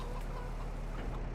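Chickens cluck on a farm in Farming Simulator 22, a short, dense burst of fowl clucking blended into a loud, steady background.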